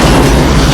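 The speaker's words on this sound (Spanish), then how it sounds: "Pusieron más de 1000 galones en el camión cisterna y lo soltaron a la carretera para que hiciera kabum" A tanker truck loaded with over a thousand gallons of fuel explodes on a road as a film special effect, a single loud, close boom with a dense rumbling burst filling the short moment.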